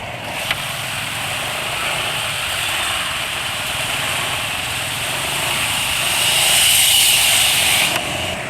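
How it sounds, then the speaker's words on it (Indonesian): A scooter engine running on Motul GP Matic 10W40 oil idles steadily and close, a continuous smooth hum with a faint high whine that rises slightly near the end. "tadi suara mesin nggak terlalu kasar sih"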